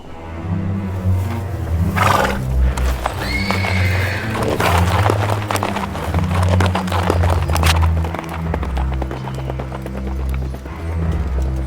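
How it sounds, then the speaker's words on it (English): Horses whinny loudly and repeatedly over steady clip-clopping hooves in a radio-play scene, the neighs rising above a continuous trotting rhythm throughout. "Let's get these horses and put them far behind us."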